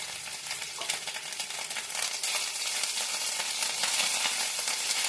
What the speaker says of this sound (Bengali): গরম তেলে একটু নেড়ে গ্যাসটা অফ করে তারপরে দইয়ের পেস্টটা দেব